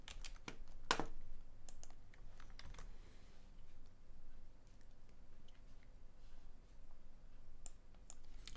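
Computer keyboard typing as code is entered, quick irregular key clicks close up, denser at first and then sparse, with no talking.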